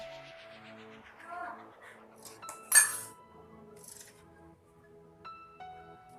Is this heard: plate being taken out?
yes